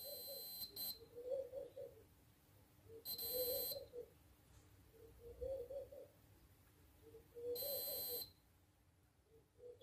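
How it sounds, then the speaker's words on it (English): Repeated electronic continuity beeps from a multimeter probing the mirror motor contacts of a Canon 6D camera, three tones of differing length spaced a few seconds apart, close and clear over faint background noise. "you can hear the multimeter beep."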